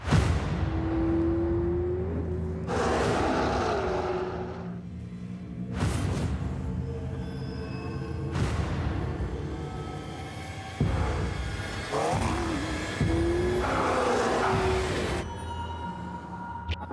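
A McLaren 650S Spider sports car's engine revs and whooshes in several bursts, with rising whines and pauses between, close and loud, no one speaking.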